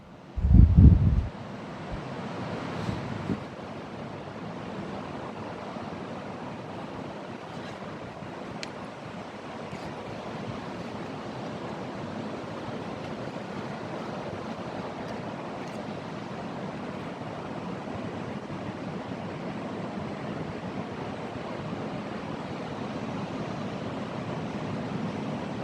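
Steady ocean surf washing onto a hidden beach in Pecatu, South Bali, a continuous broadband roar with a brief louder thump at the start, no voices.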